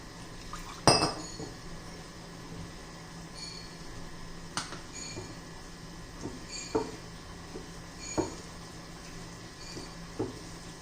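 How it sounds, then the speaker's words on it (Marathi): Leftover chapati batter is mixed with a spoonful of water in a bowl, giving sparse sharp clinks and taps of a spoon against the dish over a quiet background. "व्यवस्थित मिक्स करून घ्यायचे."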